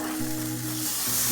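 St. Louis ribs coated in mop juice sizzle steadily on a grill, a close, continuous hiss and crackle of frying liquid with a low hum running beneath it.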